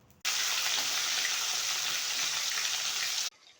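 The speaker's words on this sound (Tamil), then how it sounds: "எண்ணெய் நல்லா காஞ்சி வந்துடுச்சு. இப்போது நம்ம மேரினேட் பண்ண சிக்கனை அதில் எடுத்து போடலாம் வாங்க." Marinated chicken drops into hot oil in a kadai for a hariyali green chicken curry, setting off a sudden loud, close sizzle that holds steady for about three seconds and then cuts off.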